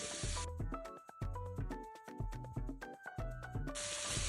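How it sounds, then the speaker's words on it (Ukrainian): Button mushrooms with onion and carrot hiss and sizzle as they fry in a pan, the sound rising clearly at the beginning and end beneath steady background music. "знову все смажу, доки гриби не випустять всю зайву вологу"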